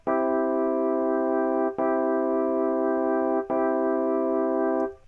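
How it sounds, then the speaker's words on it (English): Bright major chords for a trap beat ring out as three long sustained hits, each held under two seconds before the next strikes, loud and clean with no voices. "Whereas major chords will usually sound a little bit lighter"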